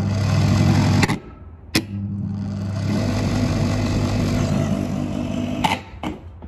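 The motor of a shredder that has been freed of its counterweight drones loudly, then revs in surges broken by sharp knocks and brief drops in level, with no talking.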